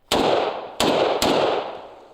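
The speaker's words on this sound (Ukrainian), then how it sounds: "Я на автоматичному режимі стріляю одиночними." Three sharp gunshots from a video game weapon fired in single shots on automatic mode ring out one at a time, each a loud crack with a short echoing tail, spaced unevenly.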